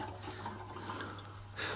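Fresh, clean water pours steadily into a hedgehog's water dish, a soft continuous trickle and splash at close range, with a brief louder gush near the end.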